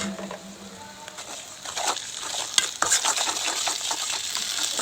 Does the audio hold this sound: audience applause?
no